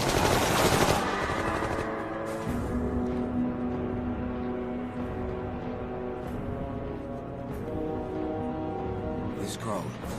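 Rapid automatic gunfire follows a shouted German firing command, a dense, loud rattle of machine-gun bursts with overlapping shouting and voices, continuing steadily across the stretch.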